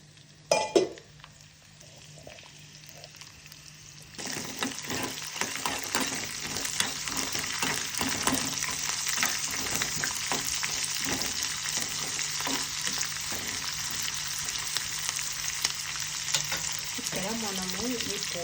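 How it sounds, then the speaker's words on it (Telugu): Onions and tempering spices frying in hot oil for spinach dal, a steady close sizzle that starts after a brief clatter and keeps up with stirring scrapes and light clinks. "మనము ఈ పోపుని, ఈ ఆనియన్స్ అంతా బ్రౌన్ కలర్ వచ్చేంత వరకు ఫ్రై చేసుకోవాలండి"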